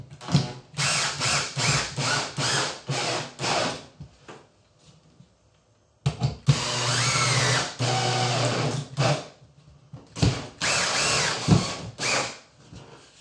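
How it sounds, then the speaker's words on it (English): Power drill driving screws into a wooden diffuser being wall-mounted, several short whirring bursts in quick succession, then a longer run and more bursts, close and loud. "get my drill and drive the screws in"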